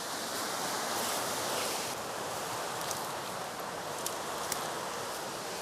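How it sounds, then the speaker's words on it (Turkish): A powerful, heavy waterfall roars as a steady, dense wash of rushing water that stays loud and constant throughout, with no voices. "Ciddi ölçüde gür bir şelale"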